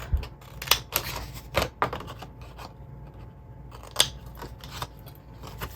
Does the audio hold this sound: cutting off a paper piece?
yes